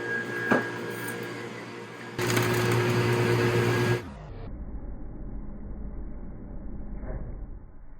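A running ice cream machine churning fluffy ice cream gives a steady mechanical whir that grows louder midway, then cuts off and drops to a lower, quieter hum, with no talk.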